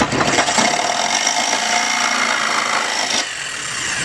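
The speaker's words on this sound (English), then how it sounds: "I like to use a jigsaw." Jigsaw cutting vertical window material for a frame with sidelite installation, a close, loud buzzing rasp that runs steadily for about three seconds and then drops off abruptly.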